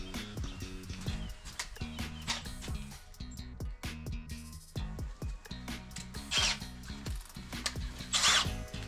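A power drill whirs in short bursts with pauses between, drilling a 3mm hole for car bonnet pins, joined by clattering tool noises and scraping close by.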